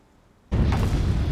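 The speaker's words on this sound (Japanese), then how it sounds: "なんか銃声近いんだよなめっちゃ銃声近い" Sudden loud burst of nearby gunfire in the World War II shooter Enlisted, a sharp onset followed by sustained, dense firing noise that continues to the end.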